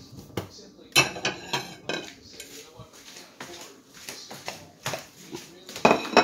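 Dishes and cutlery clatter close by as a plate is fetched at a birthday gathering, sharp clinks and knocks in irregular bursts, with voices in the background.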